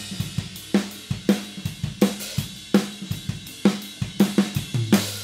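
A processed drum track mixed with stock plugins, a vintage FET compressor at a gentle 2:1 ratio plus graphic EQ, plays a steady groove of punchy kick, snare and cymbal hits repeating in a regular rhythm, up close with no talking.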